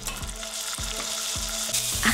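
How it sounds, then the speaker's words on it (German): Soaked, drained rice frying in a hot pan for a yellow rice dish, a steady close sizzle with several soft scraping lifts of a spatula and no voices. "Dann wenden wir die Bratmethode für den Reis an."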